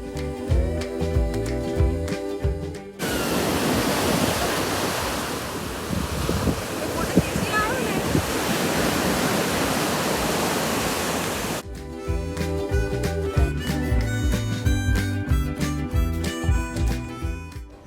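Ocean waves rolling onto Thiruvanmiyur beach, a steady loud wash of surf with wind across the microphone, sitting between stretches of music.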